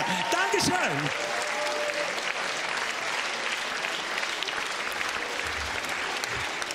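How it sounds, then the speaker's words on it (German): Studio audience applause on a TV Schlager show: dense, sustained clapping that stays loud and even throughout, with a voice speaking over the opening moments. "Das ist dein Applaus, Olaf der Flipper."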